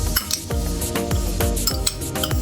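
Chopped onions sizzle in a pan as tomato paste is stirred in, with steady frying hiss and repeated clinks and scrapes of a utensil against the pan at a regular stirring rhythm.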